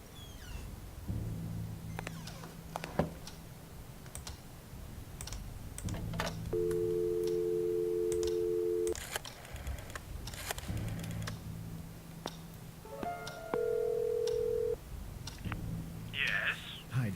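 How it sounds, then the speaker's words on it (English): A telephone call is placed in a video game. Repeated ring tones and buzzy signal pulses sound at regular intervals over a steady low hum, with faint clicks and a soft voice in between. "We are placing a phone call for Mr. Jerry."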